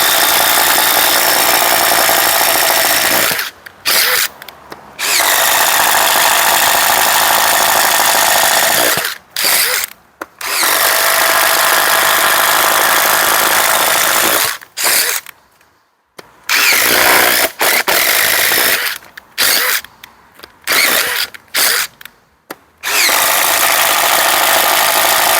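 DeWalt DCF887 impact driver driving screws: loud rapid hammering bursts of several seconds each, separated by short pauses, close up and without talk.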